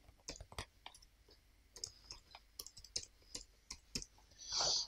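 Fingers tap out an email address on a computer keyboard, a quiet uneven run of light clicks with short pauses, ending in a brief louder rustle.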